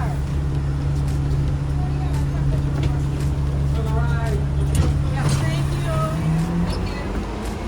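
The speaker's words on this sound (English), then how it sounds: "This is a duplex bus, a deuce bus." A Las Vegas Deuce double-decker bus pulls in on the way to Fremont Street, a heavy low engine drone and road rumble close by, with voices talking over it.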